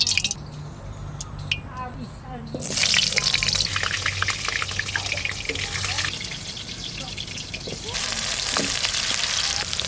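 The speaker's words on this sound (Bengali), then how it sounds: "আলুগুলো ভেজে নেব।" Potatoes fry in mustard oil in a karahi. A bright, hissing sizzle swells after a few seconds and keeps going, with some splutters, and a person talks over it.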